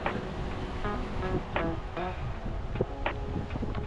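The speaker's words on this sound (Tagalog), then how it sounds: "Sa laki ng alon ngayon" Ocean waves roll onto a beach in Bauan, Batangas at dusk, a loud continuous churning wash with wind buffeting the microphone and faint voices in the background.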